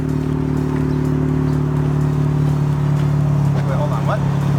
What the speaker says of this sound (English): Rev it up, clutch drop it with the wheel to the left.